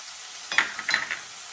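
Chopped onion hitting a hot pan beside browned beef for cabbage wraps, giving a short burst of crackling sizzle with a few clattering stirs, close and clear with no talking.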